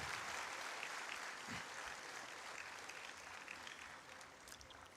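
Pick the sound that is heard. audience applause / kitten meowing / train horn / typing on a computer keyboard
audience applause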